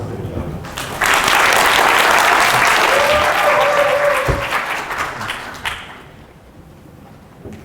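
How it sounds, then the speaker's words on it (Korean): An audience at a Python conference talk at PyCon APAC 2016 breaks into full applause that rises sharply, holds strong for several seconds, then tapers off, with a little speech around it. "큰 박수 부탁드립니다."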